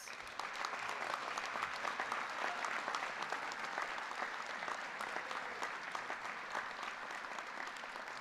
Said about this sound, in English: Please give a round of applause and congratulations for the new members.